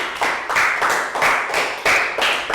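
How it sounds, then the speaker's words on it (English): Young schoolchildren in a Year 3 maths classroom applaud a classmate with quick, fairly close, rhythmic rounds of clapping, each burst rising and fading over a couple of seconds. "Big round of applause for Tew."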